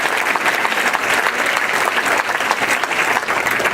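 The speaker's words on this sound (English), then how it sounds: "You should applaud yourself right now." A large rally crowd applauds loudly and continuously, a thick, close wall of many hands clapping that holds steady from start to finish without any voices on top.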